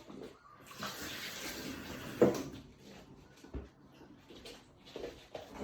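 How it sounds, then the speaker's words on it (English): Water runs from a tap into a kettle, giving a steady, hissing splash that swells and fades over several seconds, with a brief knock partway through. "So get your kettle, fill it in some water."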